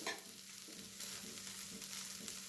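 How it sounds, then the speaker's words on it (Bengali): Paneer pieces frying in a pan, a faint, steady sizzle with a soft scrape or two, close and without talk. "মানে পনিরগুলি এখন ভালো করে কিন্তু ফ্রাই হয়ে গেছে।"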